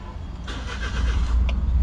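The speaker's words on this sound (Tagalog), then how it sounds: "So start natin yung makina natin." A Mazda Scrum wagon engine cranks briefly and catches, then settles into a low idle rumble that grows steadier, close by and alone.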